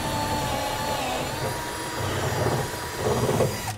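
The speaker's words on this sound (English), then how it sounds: "I'm just going to start with a pilot bit up through the center of it." A drill with a pilot bit bores up through the bed of a 2008 Ford F-450 truck, a steady loud whirring grind that swells near the end, with no speech.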